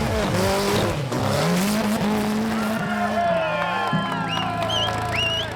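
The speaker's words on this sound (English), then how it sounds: "hopefully we can smoke some tires" An off-road vehicle's tires spin and squeal on a wet climb at a Japanese trail challenge, with a loud revving engine rising and falling throughout and a crowd audible behind it.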